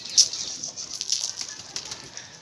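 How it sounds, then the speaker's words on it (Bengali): Pigeons in a loft beating their wings, a burst of close, papery flapping with a few fluttering pulses over about two seconds, no talking. "এখন আমি ভিতরে কবুতরগুলোকে দেখাবো।"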